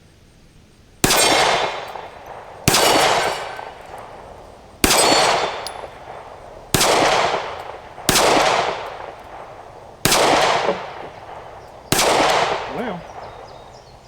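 Seven sharp pistol shots from a compact Kimber R7 Mako fired at a target on a range, spaced about one to two seconds apart, each loud with a ringing decay, and a brief spoken word from the shooter.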